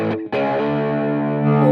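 Electric guitar through a Mooer Red Truck pedal set to fuzz with gain all the way up and a bright tone: a picked note, then a sustained, buzzy distorted chord ringing out alone and loud.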